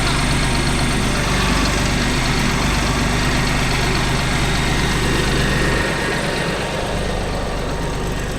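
A Deutz-Fahr 80 hp 4WD tractor engine idles in farmland, a loud, steady, low mechanical rumble that runs unbroken and close throughout.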